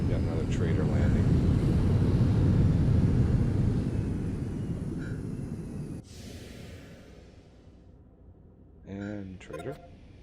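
A trader ship lands in Planetbase with a loud, broad engine roar that swells and slowly fades, then cuts off abruptly. Quieter game tones follow, and someone speaks briefly near the end.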